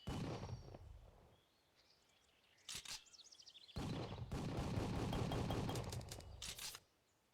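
Gunfire from the Moorhuhn Crazy Chicken shooting video game: a few sharp shots ring out over dramatic game music and chirpy effects, followed by a longer loud burst of rapid shots.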